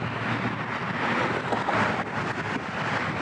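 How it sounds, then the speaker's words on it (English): Strong wind buffets the microphone at a high-elevation railyard in Cheyenne, a loud, continuous roar with gusty swells and no talking. "So it's very windy."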